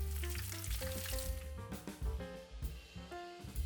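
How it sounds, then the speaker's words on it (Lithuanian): Chicken pieces fry in moderately heated oil, giving a close, continuous sizzle and crackle at moderate volume with no talking. "Galime dėti mūsų vištieną į vidutiniškai įkaitusį aliejų"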